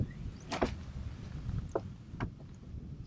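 Gas-strutted front storage hatch lid on a boat, heard as a few short clunks and thuds with a hinge-like hiss, close by, over a low outdoor background rumble.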